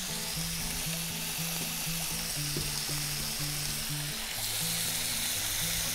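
Beef and pork longaniza fry in a pan with a loud, constant sizzle, while steady stirring scrapes underneath and a low tonal hum pulses through the background.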